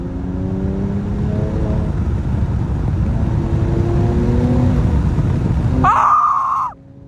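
A Mercedes C43 AMG engine drops a gear on a late-night drive, heard as a loud sustained drone with rising harmonics and a sharp rev blip near the end before it fades, all under heavy wind noise.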